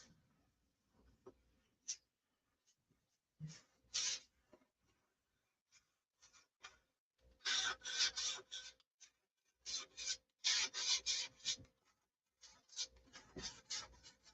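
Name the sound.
sanding a model by hand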